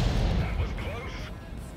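Artillery fires in World of Tanks: a single booming blast that breaks up and fades over under two seconds, with a voice talking over it.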